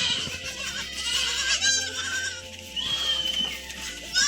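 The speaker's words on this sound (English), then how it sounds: "I saw the goats making their way back after a long day from the grazing fields" Goats bleat on a lush Ugandan farm as they return from the grazing fields at dusk, with a few calls rising over steady outdoor noise.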